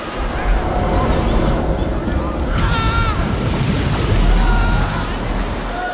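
Heavy water floods a film-set stairwell with a loud continuous roar and rushing churn, dense and close throughout, and faint voices mixed beneath the torrent.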